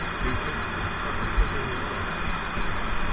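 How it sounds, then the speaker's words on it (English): HVAC vacuum pump running on a sewage plant sampler refrigerator system, with no Schrader cores, pulling down toward 500 microns: a steady, continuous mechanical hum with broadband whine and no speech. "we're going to run the vacuum with no Schraders in it and pull down to 500 microns"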